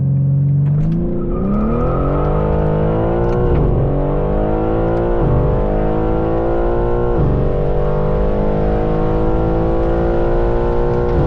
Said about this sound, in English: We're gonna put it in second gear.